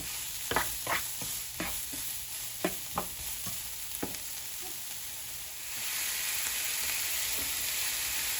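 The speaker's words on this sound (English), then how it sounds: "let me give our onions one more mix because they'll continue cooking" Onions sautéing in a pan are stirred with a series of sharp scraping clicks, then settle into a steady, louder sizzle; close by, with no talking.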